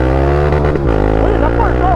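A Honda CB 300F Twister motorcycle with a GRS exhaust revs loud and close at high engine speed, hits the rev limiter with a brief stutter, then climbs again in a strained, steady engine drone.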